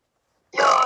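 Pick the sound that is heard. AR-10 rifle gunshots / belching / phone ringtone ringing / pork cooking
belching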